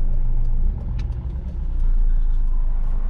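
An old, battered car drives past, its engine rumbling loudly and close, with steady broadband road noise rising and falling as it passes.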